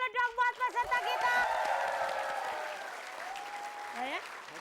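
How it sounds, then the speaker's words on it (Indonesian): Applause for the contestants on an Indonesian TV quiz show, a steady wash of clapping lasting several seconds with sustained musical tones or voices ringing over it. "Tepuk tangan dulu dong buat peserta kita."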